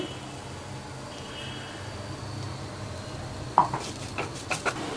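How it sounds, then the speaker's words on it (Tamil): Peanut powder stirred into a drumstick leaves stir-fry in a pan: quiet background hum, then a cluster of sharp spoon-on-pan scrapes and clinks near the end, close and distinct. "நான் வேர்க்கடலை தூள் போட்டு நல்லா மிக்ஸ் பண்ணிட்டேன்"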